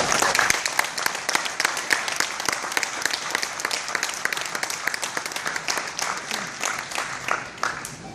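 A crowd of store staff applauds at a Walmart grand reopening, with steady, dense clapping for several seconds and some voices mixed in.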